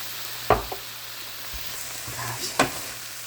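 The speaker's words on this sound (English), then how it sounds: "In here it almost sounds like it's frying." A steady, soft sizzle of savory bread pudding ingredients frying in a pan with thyme, with a couple of sharp clinks or pops standing out from the hiss.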